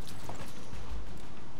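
Horse hooves clip-clop in Assassin's Creed 3, a few quick, close footfalls over a dense game soundscape during a brief moment without talk.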